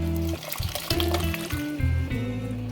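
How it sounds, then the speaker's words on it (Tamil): Boiled vegetables and their cooking water poured into a cooking pot, a close, gurgling splash of liquid in several uneven surges with short pauses between them. "இப்போ நம்ம வேக வச்சுக்கிற காய்கறி எல்லாத்தையும் நான் வந்து தண்ணியோடய சேர்த்துக்கிறேன்"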